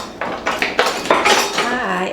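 Kitchen knives clatter and clink as they are rummaged through in a drawer, a close run of sharp metallic jangles and scrapes, with a voice speaking briefly toward the end.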